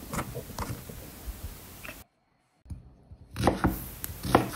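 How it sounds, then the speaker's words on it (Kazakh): A knife chopping onion on a board in a home kitchen, quick close taps in short bursts with a brief pause midway, fairly quiet. "пиязымызды ұсақтап тураймыз"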